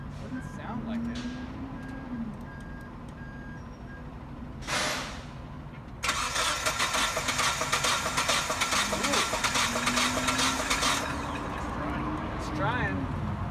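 A 1994 Mitsubishi Montero, left abandoned in the Arizona sun, cranks as someone tries to start it, with a steady rattling starter burst in the middle under low background noise.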